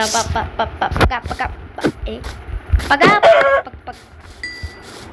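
Chickens in Minecraft give a few short, sharp clucks and squawks among game sounds, including a bell-like ding near the end, all heard close and fairly loud.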